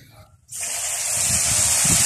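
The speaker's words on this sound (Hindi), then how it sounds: "अब हम इसमें थोड़ा सा पानी ऐड करेंगे।" Water is poured into a hot pan of chana dal frying with ginger, garlic and green chilies, setting off a sudden loud hissing gush that keeps building as a steady sizzle.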